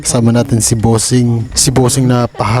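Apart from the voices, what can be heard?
None of the usual background noises is heard.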